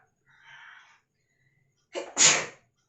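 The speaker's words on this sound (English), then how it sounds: "just for some reason it came a sneeze" A single sharp sneeze, close and loud, preceded by a brief quiet inhale, with silence around it.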